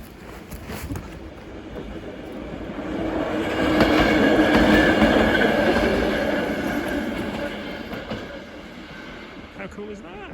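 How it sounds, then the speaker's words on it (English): A train rumbles past a French railway station, swelling to a loud peak in the middle with rhythmic rail clatter, then fading; faint voices underneath. "the train is coming."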